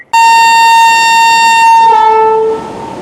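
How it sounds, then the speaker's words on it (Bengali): The Amrit Bharat Express between Howrah and Anand Vihar sounds a long, very loud, steady horn blast at close range, holding for over two seconds before the tone shifts and fades. "দারুণ হংকিং, একদম এক্সক্লুসিভ কিন্তু দেখাচ্ছি আপনাদের।"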